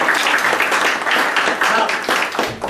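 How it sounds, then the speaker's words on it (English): Audience at a body language talk breaking into loud, dense applause, many hands clapping steadily before it starts to thin toward the end. "I think that deserves a round of applause."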